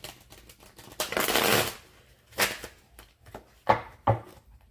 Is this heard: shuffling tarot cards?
yes